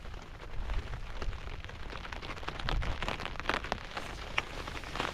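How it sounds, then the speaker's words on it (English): Steady rain patters on a surface at a wild campsite, with a constant hiss of drops and a few sharper nearby splats. "As you can hear, it's still raining."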